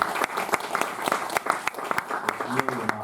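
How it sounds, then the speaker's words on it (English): An audience at a Metrograph cartoon screening applauds with scattered claps, moderately loud and steady throughout, while a speaker's voice runs over it. "So let's please give a round of applause."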